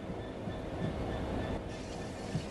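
A Class 66 diesel locomotive in the video game Train Sim World 3 rolls along with a continuous low rumble and soft rhythmic wheel clatter on the rails. The sound is fairly quiet and steady, with no voices.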